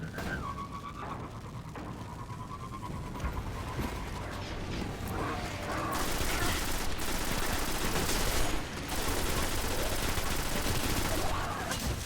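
A rifle firing repeatedly in Destiny, a steady, dense stream of loud shots that carries on with brief pauses over a continuous roar of game noise, with no talk.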